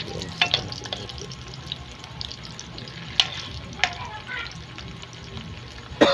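Hotdogs fry in a pan with a steady close sizzle. Sharp spatters and pops break through now and then, and a louder pop comes at the end.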